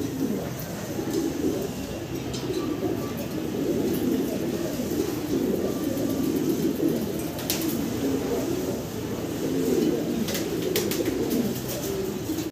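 Danish fancy pigeons coo continuously up close, a low throaty burbling that fills the whole stretch, with faint background voices.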